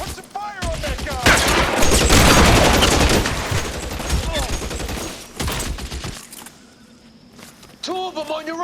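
Gunfire in the LA Noire video game crackles in dense, rapid volleys through the first several seconds, loud and close, with shouted voices mixed in and a quieter stretch near the end.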